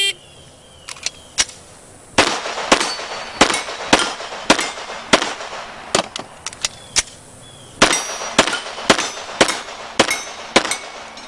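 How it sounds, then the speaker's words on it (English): A 10mm pistol with a dot sight and compensator fires in rapid strings of sharp, loud reports, clustered in quick bursts with brief pauses between them on an outdoor competition range. "this is Judy's 10mm pistol she's using right now, and it has a dot-type sight"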